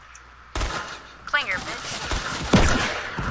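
Tactical SMG gunfire in a video game, several short bursts crackling under a player's shouted talk.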